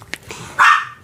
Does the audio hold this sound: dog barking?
yes